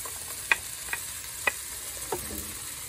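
Softened vegetables fry quietly in a pan in an RV kitchen with meatless burger chunks, a faint steady sizzle broken by a few sharp taps and scrapes of a stirring utensil.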